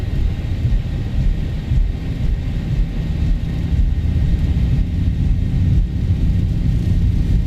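The engines of a TUI Boeing 737-800 in a flight simulator hold a loud, steady low rumble at takeoff thrust, a constant roar with no talk over it.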